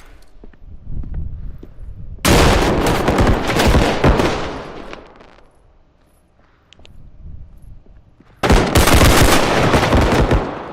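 Two long, loud bursts of rapid automatic gunfire in the shooter Bodycam, close and dense, separated by a quieter stretch of fading echoes and scattered sounds.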